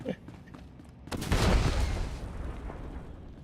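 Video game gunfire as a player shoots and blows up boxes: a sudden loud burst about a second in swells into a heavy roaring blast that slowly fades, over a low background rumble.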